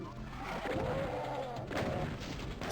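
In the DOS version of Doom, a shotgunner enemy fires a couple of booming shotgun blasts, mixed with other game noise, while a person talks over it.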